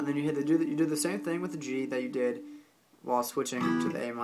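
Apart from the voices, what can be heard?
No distinct noise like a dog, phone or traffic.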